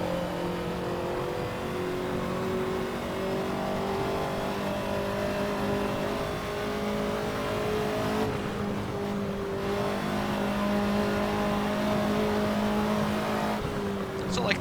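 In the Assetto Corsa driving game, a Ferrari 288 GTO's turbocharged engine drones at steady revs with tonal whine, briefly dipping around shifts, loud and continuous while someone talks over it.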